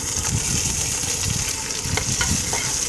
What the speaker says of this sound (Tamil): பூண்டுலாம் வதங்கிச்சு